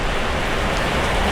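Steady rain falls during a fishing trip on a raft at Pasir Gogok, a dense, unbroken hiss of drops close by, with no voices.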